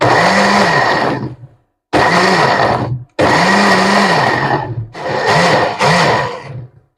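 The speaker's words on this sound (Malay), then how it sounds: "Bawang dengan cili belum blender lagi." A kitchen blender grinds onion and chili for sambal in four loud bursts, its motor whirring and dipping in pitch as the load shifts, with short silences between runs.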